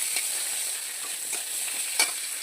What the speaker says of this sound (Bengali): আলুটাকে কাঁচকলাটাকে একটু ভাজা ভাজা করছি